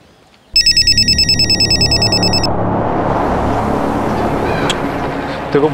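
A mobile phone ringtone rings loudly for about two seconds in a domestic crime-drama scene, a rapid repeating electronic tone that then gives way to a sustained dramatic background score.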